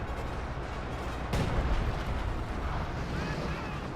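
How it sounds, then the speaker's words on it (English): A 220mm mortar in Company of Heroes 2 fires with one sharp, deep boom that cuts through steady battle noise and leaves a rumbling tail. "Got 220mm mortars here"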